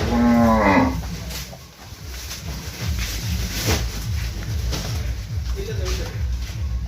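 A loud, close cow moo opens, followed by a steady rumble of engine or crowd noise and a fainter low moo later on, as sacrificial cattle are sent off to Keraniganj, Dhaka.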